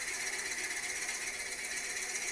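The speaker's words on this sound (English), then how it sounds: "I'm going to drill a 7mm hole" A drill bit held in a woodturning lathe chuck bores a 7mm hole into wood, giving a steady, continuous high-pitched whirring grind throughout with no voices.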